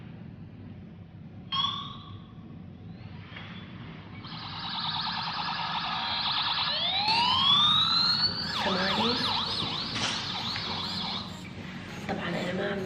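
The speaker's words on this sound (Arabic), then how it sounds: "اوكي صوت شرطة." A police siren played from a mobile phone at low volume indoors, cycling through wailing and yelping tones that sweep up and down, with a brief voice speaking near the start.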